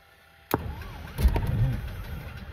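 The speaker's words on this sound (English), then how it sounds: "We're gonna increase the throttle until it starts." Engine start of a 1959 Cessna 310-C aircraft: a sharp click, then the engine catches and rises into a rough, growing rumble, heard close and alone.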